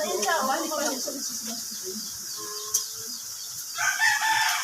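A rooster crows out in the open while hens cluck nearby, with people talking at the start and a faint background hum.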